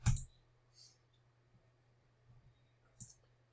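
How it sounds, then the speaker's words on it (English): A computer mouse right-click in a quiet room: one crisp click up close, a few faint softer taps, and then a second distinct click about three seconds later. "right click and select Run as Administrator"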